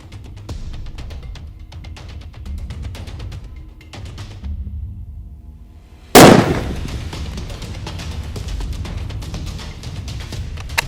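A Sako 85 Brown Bear rifle in .416 Rigby is fired from a bench rest at a target 50 yards away outdoors. After a quiet stretch, one very loud, close blast hits suddenly and leaves lingering rumbling noise.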